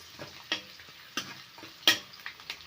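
Onions fry in a pan of oil for a taro curry, heard as a quiet, sparse crackle with several sharp stirring scrapes and clicks spaced roughly half a second apart.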